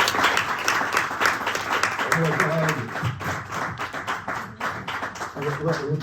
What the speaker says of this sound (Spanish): Y se le puede aplaudir.